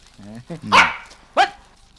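A dog gives a few short barks and yips, close and loud, spaced irregularly over about two seconds.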